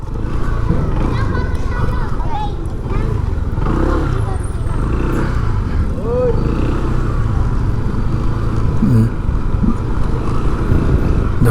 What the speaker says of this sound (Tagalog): May mga motor pa sila dito, mga bike.